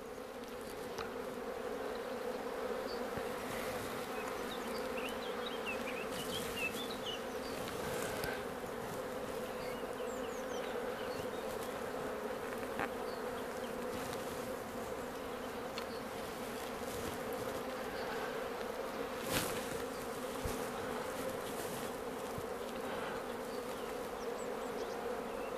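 Honey bees flying in front of their hives in April make a steady, dense buzzing drone that stays loud and continuous throughout, with no voices over it.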